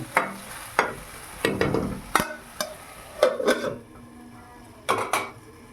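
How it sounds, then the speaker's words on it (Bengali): Okra frying in a pan is stirred with a utensil, giving sharp irregular scrapes and clinks against the metal over a faint sizzle, close and fairly quiet, with pauses between strokes. "ভেন্ডিগুলো দেওয়ার পরে নাড়াচাড়া দিয়ে নেব।"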